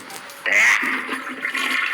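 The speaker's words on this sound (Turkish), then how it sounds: "Dur şuradan sifonu da çekelim." A toilet flushes in a bathroom, with a sudden loud rush of water that churns and drains steadily for over a second, close by, and a faint voice underneath.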